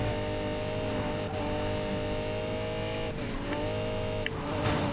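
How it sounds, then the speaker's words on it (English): A Lamborghini Murciélago engine in the racing video game Need for Speed Payback runs continuously at a steady, throaty pitch, with brief rises and shifts, loud and close throughout, no talking. "You just hear the engine just bubbling away."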